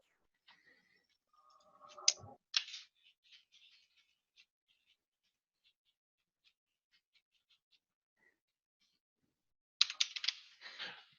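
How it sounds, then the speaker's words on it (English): Typing on a computer keyboard during an online class meeting: scattered light clicks and taps, with a denser burst of keystrokes near the start and another near the end, quiet gaps between. "I'm typing to Anya here to answer some of her questions"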